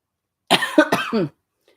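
A short burst of two or three harsh coughs, close and loud, followed by silence.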